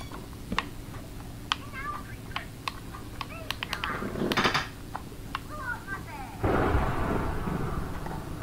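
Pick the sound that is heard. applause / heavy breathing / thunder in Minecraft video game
thunder in Minecraft video game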